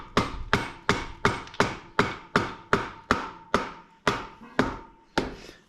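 A plastic hammer knocks a wheel bearing out of a Super Ténéré motorcycle wheel: about a dozen sharp, evenly spaced blows, close and loud, with no talking.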